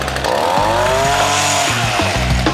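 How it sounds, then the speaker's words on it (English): A 1-horsepower leaf trimmer motor fitted to a fan runs loud and steady, a buzzing whine that rises in pitch, with no talk over it. "For his replacement motor, Adam has settled on a 1-horsepower leaf trimmer."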